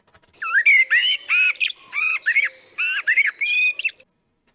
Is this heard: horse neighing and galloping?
no